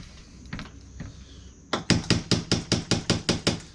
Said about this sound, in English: let me get a hammer here